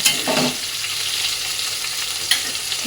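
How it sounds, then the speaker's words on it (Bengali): Boiled potatoes fry in oil in a wok with a continuous close sizzle, and a couple of soft scraping stirs break in near the start and the end. "চলো আলুটা ভেজে নিই"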